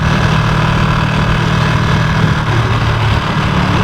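Ducati Streetfighter V2 motorcycle being ridden in road mode on a gravel-edged road, its engine a loud, steady drone with constant wind rush and no gear changes.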